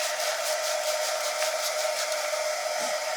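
A hair dryer runs steadily up close, a constant loud whooshing hum with no pauses, drying something.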